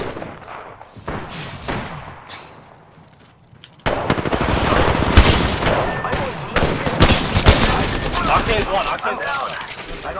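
Gunfire in a squad-based shooter game, with enemies firing from a rooftop: sparse distant shots at first, then loud, dense bursts of rapid fire and sharp cracks continuing over several seconds, mixed with game voice callouts.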